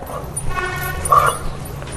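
A farm dog on a buffalo dairy farm gives short barks and a high whimpering yelp, fairly close, while a voice talks over it.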